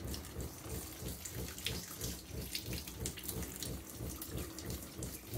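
Water runs steadily from a tap while an RV part is rinsed out during dewinterizing, a close, continuous splashing rush throughout.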